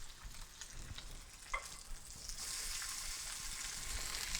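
Salmon fillet with crispy skin fries in an oil-filled pan, giving a steady close sizzle with crackling pops and a brief louder flare as it is turned, then an intensifying hiss; no one speaks.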